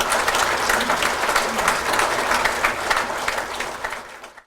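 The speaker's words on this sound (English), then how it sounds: "give yourselves, as leaders of our union, a round of applause" A room of union leaders gives themselves a round of applause, thick continuous clapping from many hands that stays loud and even, then fades out quickly at the close.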